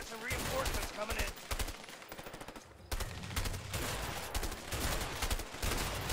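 Gunfire in the video game A Way Out, bursts of rapid shots and fusillades running through the whole stretch, moderately loud, with players' voices talking over parts of it.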